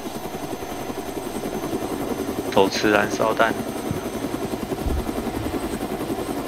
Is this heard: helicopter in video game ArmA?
yes